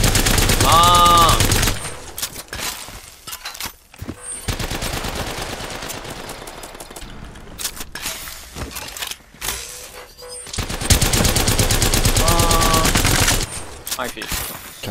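Rapid automatic gunfire from a weapon in Apex Legends, loud sustained bursts with short pauses between them, the shots close and sharp.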